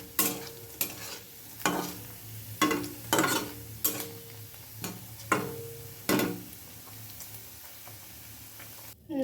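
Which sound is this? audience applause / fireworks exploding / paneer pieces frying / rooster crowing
paneer pieces frying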